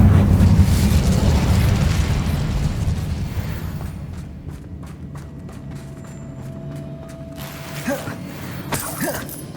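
An Incendio fire spell in Hogwarts Legacy erupts with a loud, rumbling burst that fades over several seconds into creaking, mechanical clicks and a few faint crackles.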